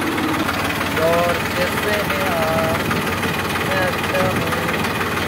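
A tractor engine idles with a steady low rumble and vibration, close by, while someone talks over it.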